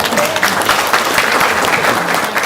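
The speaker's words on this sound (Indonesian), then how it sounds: "Oke, tepuk tangan dong" A group claps on request, loud and close, a busy continuous patter of hand claps with scattered individual strikes standing out.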